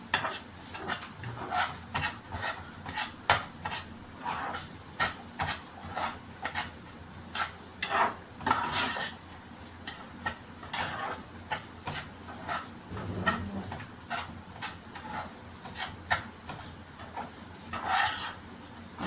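Repeated scraping and tapping of a utensil stirring semolina in a pan, irregular strokes close up with a faint sizzle underneath, no voices.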